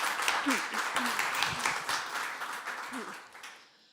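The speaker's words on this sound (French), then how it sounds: "Je pense qu'on peut l'applaudir" Audience applause at a deeptech pitch session on energy, a dense patter of clapping that holds steady and then tapers off toward the end, with a few scattered voices mixed in.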